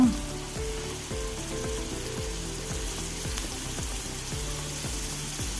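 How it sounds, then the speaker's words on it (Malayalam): Prawns frying in a pan, a continuous close sizzle and bubbling crackle at an even level, with a brief louder burst right at the start. "നമുക്ക് ചെമ്മീൻ ഫ്രൈ ചെയ്തെടുക്കണം"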